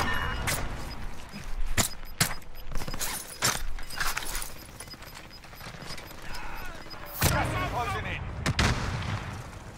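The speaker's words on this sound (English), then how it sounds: "Somebody shooting them." Scattered gunfire in the battle royale game Call of Duty: Warzone, with sharp single shots cracking at irregular intervals and a heavier burst near the end, some close and some distant, amid general game noise.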